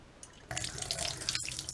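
Hot water runs from a tap, starting abruptly partway through as a steady, close hiss of flowing water during a straight razor shave.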